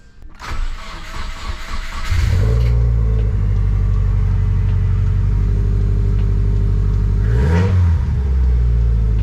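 A Subaru WRX project car, just repaired after an engine blowout, cranks and fires up, revs briefly, then settles into a loud, steady close-up idle with a second short blip of the throttle near the end.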